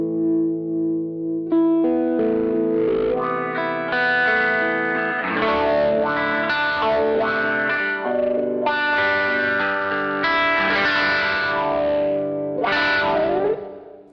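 Electric guitar played through a Plutoneium Chi-Wah-Wah wah pedal with gain turned all the way down and contour at the middle, giving sustained chords and riffs with a loud, effected, slightly distorted tone that carries continuously.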